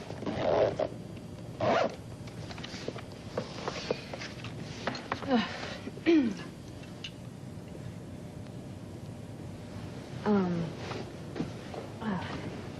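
An overnight bag is zipped up, with several short zipper pulls and rustles spread through a quiet room, and a voice speaking briefly between them.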